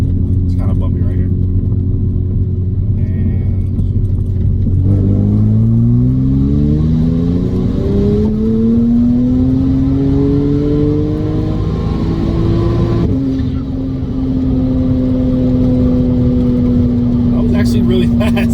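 A car running E85 fuel accelerates hard, its engine note climbing steadily in pitch through two gear changes, loud and close from inside the cabin with road rumble underneath.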